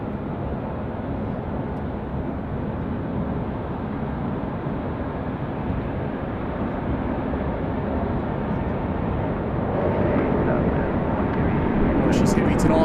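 A heavily loaded Qantas airliner on the night flight to Vancouver takes off from Sydney Airport. Its engines make a broad, rumbling roar that holds steady and then swells louder toward the end.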